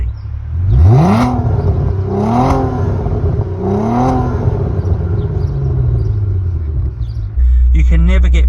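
Audi TT mk1 with its 3.2 VR6 engine, heard from the cabin as three sharp throttle blips rise and fall in quick succession over a steady idle rumble, loud and close.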